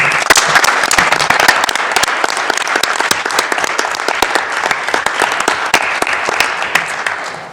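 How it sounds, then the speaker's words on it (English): Loud, close applause in the Senate chamber for staffers, many hands clapping in a dense stream with sharp individual claps popping out, sustained throughout and tapering slightly at the end. "So I'm going to ask again that we give a round of applause to all of our staffers."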